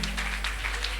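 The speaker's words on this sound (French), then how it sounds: "Acclamons très fort le Seigneur" A church congregation applauding during a worship service, a dense, continuous patter of many hands clapping at moderate loudness over a low steady hum, with no voices.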